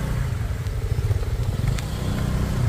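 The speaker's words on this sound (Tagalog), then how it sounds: "Kawawa na naman yung motor ko na to. Sa putik." Motorcycle ridden slowly through mud on a rural trail, its engine chugging with a steady low rumble and some clattering, close and continuous throughout.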